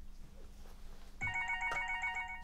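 A phone ringtone starts partway through a quiet indoor drama scene and plays a bright, repeating electronic melody at moderate volume over low background hum.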